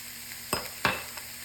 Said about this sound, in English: get those mushrooms kind of sauteed on there for a minute